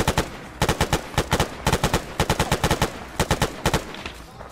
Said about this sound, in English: I think we're getting shot from the southeast as well.